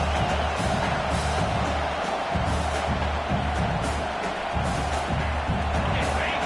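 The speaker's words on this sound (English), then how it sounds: "this big crowd doing everything possible to inspire this defense down here near the goal line" A big stadium crowd at a football game cheers as the defense lines up near the goal line. The roar is sustained and dense at moderate loudness, with a low rumble underneath and no clear speech.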